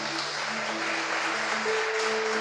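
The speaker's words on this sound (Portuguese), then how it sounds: "Você pode aplaudir o Senhor em nome de Jesus?" A church congregation claps together in sustained, even applause, with held keyboard tones sounding underneath.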